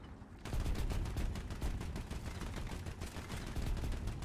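Rapid, continuous automatic fire from an anti-aircraft gun in the video game War Thunder, loud, dense and steady after a brief quieter start.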